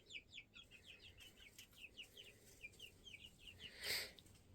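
Two-week-old chicks in a coop give a steady stream of faint, high peeps and soft clucks, with one brief louder rustle near the end.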